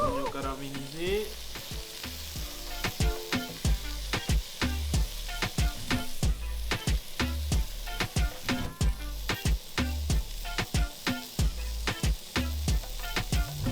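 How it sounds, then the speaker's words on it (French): Onions caramelizing in a frying pan for a homemade burger, a steady close sizzle with regular stirring scrapes ticking through it, no talking. "Oignon caramélisé."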